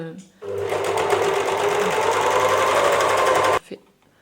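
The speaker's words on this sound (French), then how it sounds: "La surfileuse, en fait, l'avantage, c'est que ça coud un tissu stretch." An overlock serger stitches stretch fabric, a loud, fast continuous mechanical whir running for about three seconds before stopping abruptly, with a voice speaking over it.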